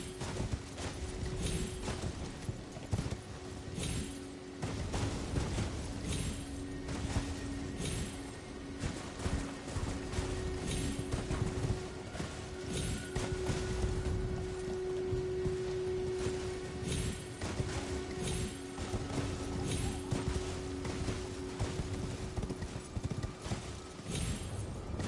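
A horse gallops in the video game Elden Ring, with steady rhythmic hoofbeats thudding continuously under ambient game sound, fairly quiet and close.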